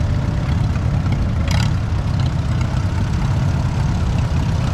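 A 1939 Allis-Chalmers RC tractor, a WC fitted with the C engine, rumbles along in a parade at a steam and gas engine show, a steady low engine drone held at close, even loudness with no talk.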